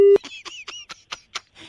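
A phone call cut off during a radio prank show, ending with a short low beep followed by a rapid series of chirpy electronic tones, crisp and close.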